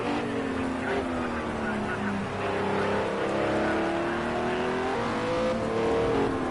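GT3 race cars in a racing game lapping the Nürburgring, engines droning and rising in pitch through gear changes, a continuous loud whine with several cars blended together, no talk over it.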